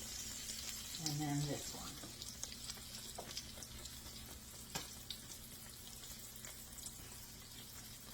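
Cube steak fingers crackle and sizzle in hot frying oil with a continuous faint hiss and scattered pops, while a voice speaks briefly over the start.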